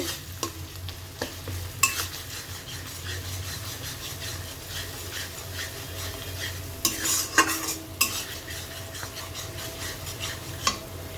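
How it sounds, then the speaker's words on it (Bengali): Spice masala being stirred and sautéed in a pan for sago khichdi: rhythmic spatula scraping over a low, steady sizzle, with a few louder clacks against the pan. "মশলাটা ভালো করে এখনও কষানো হচ্ছে"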